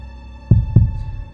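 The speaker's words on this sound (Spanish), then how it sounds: "Era el latido del corazón del viejo." Two deep, muffled heartbeat thumps land close together, a low dull pulse over a steady hum in a dark horror-story setting.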